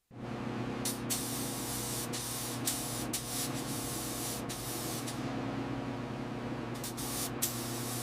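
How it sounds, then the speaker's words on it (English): Clear coat sprayed onto a 1937 Cord 812 Supercharged Phaeton, a steady close hiss of the spray gun running almost continuously, broken by several brief gaps and clicks as the trigger is released. "The clear coat is flowing beautifully."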